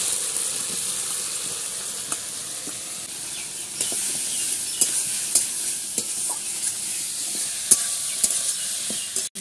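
Spices and fried potatoes sizzle in a pan as they are stirred. A steady moderate hiss runs under repeated scraping and clicking strokes.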